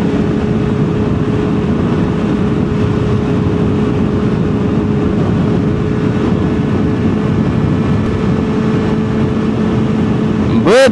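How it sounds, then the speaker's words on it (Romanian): Loud, constant headwind roar buffeting a microphone on a motorcycle riding along a highway, with engine rumble underneath, steady throughout. "dar vine un vânt din față"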